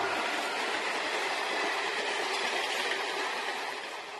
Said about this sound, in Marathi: आता ट्रेन गेली. अख्खी ट्रेन गेली.